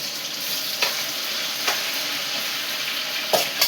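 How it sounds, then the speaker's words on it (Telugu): Chicken fries loudly in a pan, a dense constant sizzle broken by several brief scraping stirs. "చికెన్ అలా ఫ్రై అవుతుంది"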